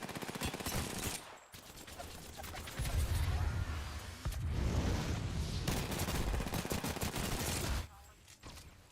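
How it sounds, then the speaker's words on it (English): Sustained gunfire in a shooter video game, dense automatic bursts and fusillade noise filling most of the stretch with brief pauses, fairly quiet overall, with a voice faintly under the action. "Being shot at."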